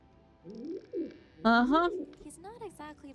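Pigeon cooing in the point-and-click adventure game Anna's Quest: a few soft low coos, then a louder rising warbled coo and a couple of short calls, fairly close and clear over a quiet background.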